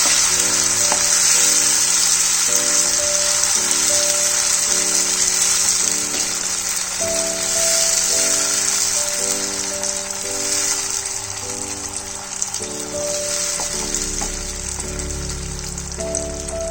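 Whole spices fry in a hot pan with tomato puree being added, giving a steady, loud, close sizzle and hiss that runs throughout over a backdrop of music.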